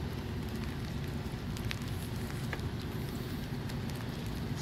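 Rain falls steadily outdoors, a dense soft patter with scattered sharper drops hitting nearby surfaces, fairly faint and continuous with no voices.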